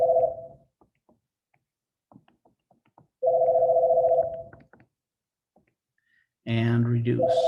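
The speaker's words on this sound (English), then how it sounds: "I've got a phone call." A telephone rings in two-tone electronic bursts, pausing between rings, fairly loud and near, with quiet clicks in the gaps and a brief voice near the end.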